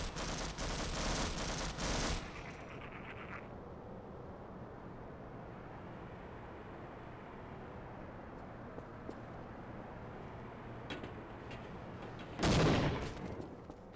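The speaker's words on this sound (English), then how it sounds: "Just sit back and watch the grenades fly." In Half-Life: Source, a loud burst of explosions and gunfire opens, then gives way to a long low rumble and scattered distant pops before another heavy blast near the end.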